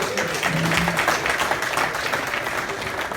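Dense, steady clapping fills the room for a councillor at a Liberian gathering, a continuous burst of applause lasting a few seconds without letting up.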